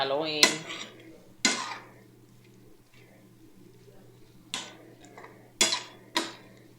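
A spoon scrapes and knocks against a pan while buttered shrimp are stirred, five separate sharp metallic clanks spaced irregularly with quiet gaps and a low steady hum beneath.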